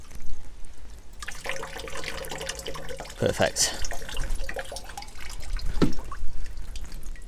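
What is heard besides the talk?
water pouring from a watering can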